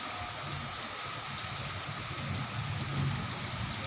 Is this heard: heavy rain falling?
yes